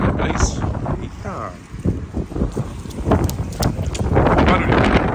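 Strong cyclone winds buffet the microphone at a beach in Balneário Camboriú, loud gusty roaring that rises and falls unevenly, with blowing sand and people talking excitedly underneath.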